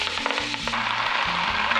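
Leafy greens sauté in melted bacon grease with a steady, close sizzle and scattered small pops throughout.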